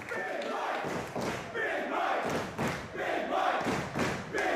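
A crowd at a New Japan Pro-Wrestling event in Japan, during the Michael Elgin versus John Silver match, roars in loud rhythmic surges of applause and cheering, with dull thuds mixed in.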